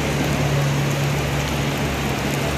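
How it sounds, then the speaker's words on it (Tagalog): Rain falls in a steady, dense hiss, with water dripping near a gap in a dike. The wash is constant and fairly loud, and no talking is heard. "Umuulan,"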